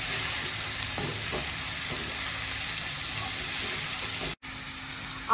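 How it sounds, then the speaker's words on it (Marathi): Cabbage sautéing in a pan for a prawn dish, a loud continuous sizzle close by with occasional stirring clicks and scrapes, no talking. "आता हा कोबी छान परतून घेऊया आपण."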